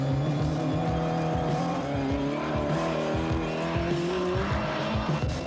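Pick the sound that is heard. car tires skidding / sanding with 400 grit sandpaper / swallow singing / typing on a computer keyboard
car tires skidding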